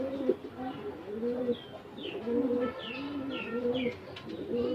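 Domestic pigeons kept on a rooftop coo in repeated low, throaty phrases, close and steady, with a few higher chirps from other birds in the background.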